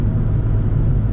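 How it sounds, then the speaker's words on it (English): BMW 325xi E46 Touring under full-throttle acceleration, a steady, loud low engine drone with heavy rumble from inside the cabin, continuous throughout without pauses. "Every time you floor it, it accelerates really good."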